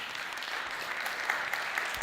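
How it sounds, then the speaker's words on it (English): A conference audience at the TechChill 2018 startup event's stage opening claps for the main supporters, with brief, fairly faint, steady applause and no voices. "Give a big applause to the main supporters once more"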